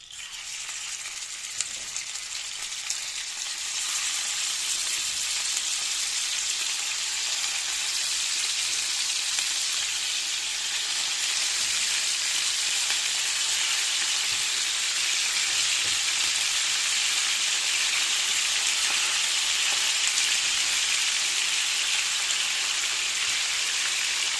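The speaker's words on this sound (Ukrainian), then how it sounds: "Значить, ставимо жарити." Food sizzles steadily in a hot pan where onions were already frying, a dense, even hiss that swells slightly after the first few seconds and then holds loud and constant.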